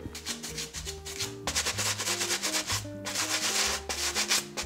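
A small wet brush scrubs fabric worked with Marseille soap, making rapid back-and-forth rubbing strokes in dense bursts, close and fairly loud, with brief breaks between passes.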